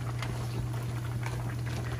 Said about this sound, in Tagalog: Medyo kumukulo-kulo na po yung ating gata.